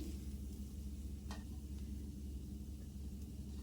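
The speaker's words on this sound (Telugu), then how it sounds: "కొద్దిగా పసుపు, అలాగే కొద్దిగా చింతపండును కూడా వేసేసుకొని బాగా కలుపుకోవాలి" Bitter gourd frying in a pan with turmeric and tamarind added, a soft steady sizzle with faint stirring scrapes and a brief clink, no talking.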